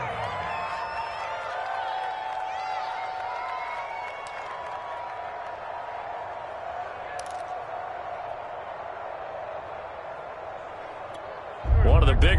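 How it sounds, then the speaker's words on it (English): Stadium crowd roaring steadily through a PS4 American football video game, a continuous broad wash of cheering and applause at moderate level, swelling louder at the very end. "The crowd getting into it as we come up on a big third down"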